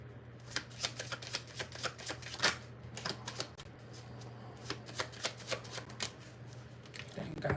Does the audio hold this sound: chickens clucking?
no